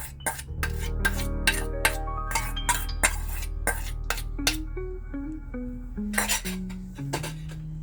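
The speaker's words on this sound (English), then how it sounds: "I'm just beating them a little, and then I add everything to my wet ingredients." Eggs beaten in a bowl for cranberry and orange muffin batter, with a utensil clinking and scraping rhythmically against the bowl, close up and fairly quiet.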